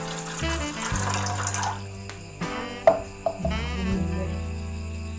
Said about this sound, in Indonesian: Di sini kita masukkan airnya 1 cangkir.